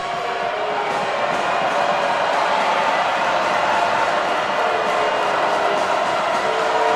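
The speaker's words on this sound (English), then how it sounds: "Crowd doing everything they can" Basketball arena crowd at a men's college game, cheering and roaring steadily as a home team trails late, a dense continuous wall of voices that stays loud throughout.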